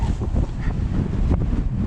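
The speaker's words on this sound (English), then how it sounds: "It's a bit windy, obviously, and a bit wet" Wind gusting across an exposed, wet and muddy hilltop during Storm Kathleen, a continuous close buffeting roar against the microphone with no break.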